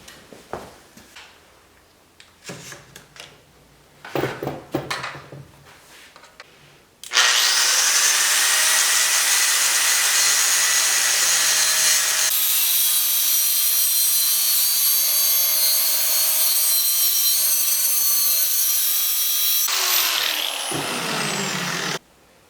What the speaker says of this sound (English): I'm going to use my grinder